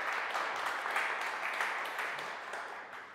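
An auditorium audience claps to welcome a spiritual guest, a steady wash of many hands heard at moderate distance, gradually fading in the final second.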